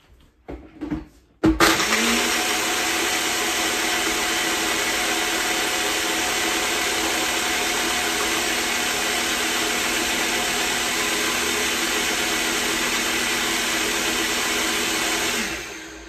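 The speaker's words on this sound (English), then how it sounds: "Blend it up." A countertop blender whirs loudly and steadily as it blends a Ka'Chava meal replacement shake with ice, starting abruptly after a few brief clicks and running continuously before cutting off at the end.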